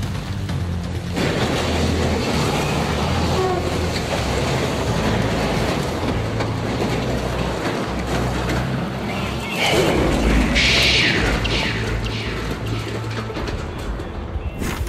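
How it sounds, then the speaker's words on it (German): A train rolls past as a landslide gives way beside the track: a steady, loud rumble of rail wheels and rushing debris, with a brief screeching burst partway through. "Wie dieser Erdrutsch, der passierte, als gerade der Zug vorbeifuhr."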